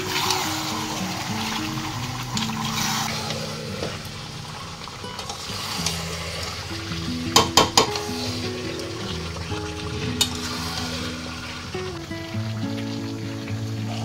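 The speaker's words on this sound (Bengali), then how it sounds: "ভালোভাবে আমি চিকেনটাকে কষিয়ে নিয়েছি" Chicken and potatoes sauté in oil for Bengali chicken kasha, a continuous close sizzle broken by spoon stirring and a few sharp clatters against the pan.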